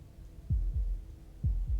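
Slow, deep heartbeat from the video game Slay the Princess, two double thumps in a steady lub-dub rhythm, close and heavy over a low hum, no voices.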